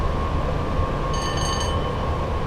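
Class 87 electric locomotive hauling a Freightliner train over Shap on the West Coast Main Line in Train Sim World 6: a loud, steady rumble and whine of running gear, with a brief high ringing tone partway through, no voices.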